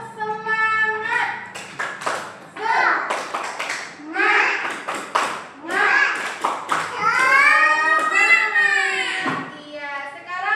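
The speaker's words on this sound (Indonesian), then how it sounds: "coba tepuk semangat" Children in a classroom perform a chanted clapping routine, sung syllables alternating with sharp bursts of group claps in a rhythmic pattern, voices and hands mixed close by.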